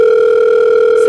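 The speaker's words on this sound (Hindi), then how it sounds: "सर आपका फोन आ रहा है।" A steady electronic telephone tone rings continuously and fairly loud at an event, a single unbroken pitch with no talk over it.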